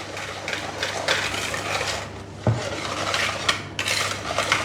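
Red food colouring is whisked into fudgy red velvet brownie batter in a bowl, with a steady scraping, clinking rhythm of the whisk against the bowl and one sharper knock partway through.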